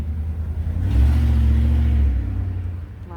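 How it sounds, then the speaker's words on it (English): A loud truck passes close by outdoors, its engine rumble swelling to a heavy peak and then fading away, with no talk over it. "loud truck"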